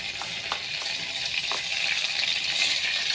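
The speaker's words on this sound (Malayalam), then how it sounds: "അപ്പോൾ കടുക് പൊട്ടുന്നുണ്ട് കേട്ടോ." Mustard seeds pop in hot oil: a steady bright sizzle broken by several sharp, scattered little pops, close up and with no voices.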